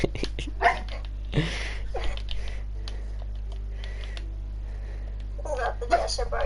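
An excitable pet dog barks indoors in short, scattered bursts, some close and sharp, mixed with a person talking and faint background hum.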